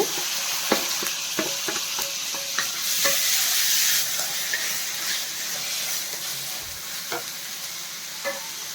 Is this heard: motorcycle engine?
no